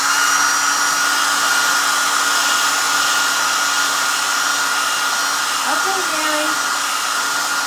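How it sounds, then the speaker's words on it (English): A hair dryer blows with a steady, loud, unbroken whooshing hum throughout, with a faint short spoken word over it. "If you are tired of listening to a hairdryer blowing"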